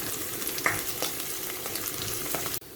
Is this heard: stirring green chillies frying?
yes